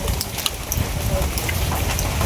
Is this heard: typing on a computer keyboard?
no